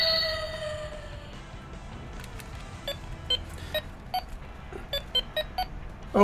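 A retro toy henshin transformation device plays its henshin sound effect, opening with a sustained electronic tone that fades, followed by a sequence of sharp, evenly spaced digital beeps and clicks, moderately loud and alone.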